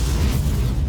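Heartburn fire ability in a Namekian showcase video game: a dense, roaring blast of rumbling fire fills the short moment loudly and steadily, without voices.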